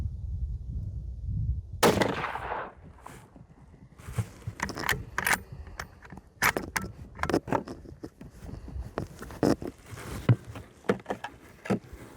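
Rifle shots fired at a range while sighting in a rifle: a loud crack near 2 s, then several more sharp reports spread across the stretch, separated by quieter handling and movement noises.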